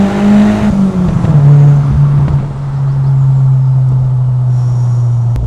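A VW Golf Mk2 GTI with an S3 engine swap pulls hard in second gear from 3,000 RPM: a loud, close engine drone climbs steadily in pitch and holds its throaty roar, with no voices over it.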